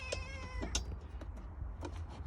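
A cat gives a few faint, short meows in a quiet room, spaced out over a low background hum.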